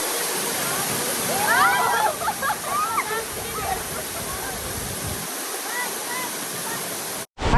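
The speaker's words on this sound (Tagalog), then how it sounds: "Ayan na yung Turgen Waterfall." Turgen waterfall in Turgen Gorge, Kazakhstan, roars as a steady, close wash of falling water throughout, with excited voices chattering over it before the sound cuts out briefly near the end.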